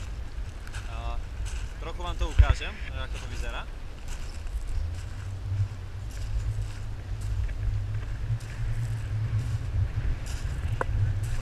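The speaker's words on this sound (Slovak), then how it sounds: "Ja dúfam, že ma budete počuť kvôli tomuto vetru" Steady low wind rumble buffets the microphone throughout on Brighton pier, with a person speaking briefly early on over the gusty background.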